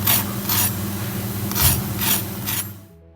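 A cooked flourless rice and vegetable pancake gives off crisp, rasping crunches as it is pressed or broken, about five short scratchy bursts close up with no talking.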